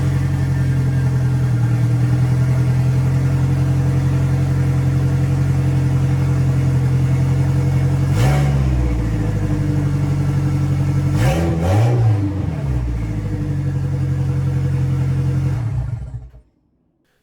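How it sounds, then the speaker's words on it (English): A Nissan 240SX with an SR20 engine, fired up with an open downpipe, idles in a loud, raw, rumbling drone, revs sharply twice in the middle, then cuts off abruptly near the end. "you gotta do the obligatory open downpipe engine start"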